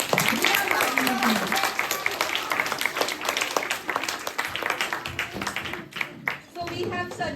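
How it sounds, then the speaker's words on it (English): Children and teachers clap for the winning house at a school Environment Day quiz competition, dense sustained applause with voices mixed in, easing briefly near the end. "So let's clap for the winning house."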